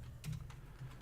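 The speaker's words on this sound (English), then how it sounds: "Oh man, I'm struggling with typing tonight." Quiet clicks of typing on a computer keyboard, a few scattered keystrokes in small clusters against a faint low hum.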